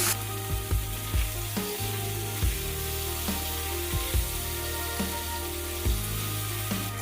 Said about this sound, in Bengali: একটু উল্টে পাল্টে ভালো করে ভেজে নিচ্ছি